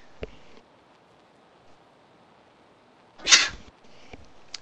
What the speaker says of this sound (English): about to sneeze, excuse me